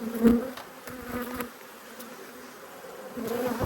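Angry honey bees swarming around an open hive during an inspection, a dense close buzz that swells loudly at the start and end with individual bees droning past, no speech.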